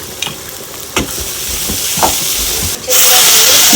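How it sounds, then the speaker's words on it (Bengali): Turmeric, chili, coriander and cumin sizzle and fry in hot oil in a pan, with a few sharp stirring scrapes before a sudden loud burst of hissing steam near the end. "এখন আমি এখানে সব মশলাগুলো একটু একটু করে দিয়ে দিচ্ছি হলুদ মরিচ ধনিয়া আর জিরা"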